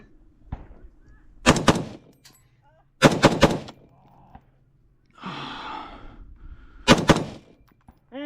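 Rifle shots at a shooting competition in the high desert, several sharp loud cracks fired in quick double and triple bursts, with heavy breathing and a sigh between strings, close and up front.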